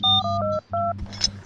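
A phone rings for an incoming call with a patterned electronic ringtone: repeated bursts of bright beeping tones in a short rhythmic phrase, loud and close, then breaking off into rustling noise.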